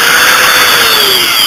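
A variable-speed Dremel rotary tool whines loud and close at a high pitch for under two seconds, its tone drifting slightly as it runs, with no talk.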